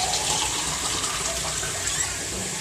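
Water poured into a pan of sauteed sardines to start a stew, a steady close splashing and rushing pour with no talking.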